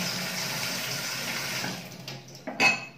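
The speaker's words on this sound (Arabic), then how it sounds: "طبعا الميه شغاله اهي، مفيش تنقيط مفيش حاجه" Water runs steadily from a kitchen sink mixer tap, a close, hissing stream that carries on for a couple of seconds before thinning, followed by a few brief splashy bursts of flow near the end.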